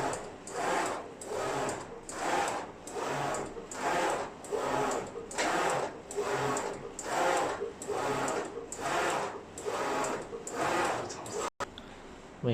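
An Epson A4 printer starting up after being switched on, with a steady mechanical whir that pulses in an even, repeating rhythm for about eleven seconds before a brief click near the end.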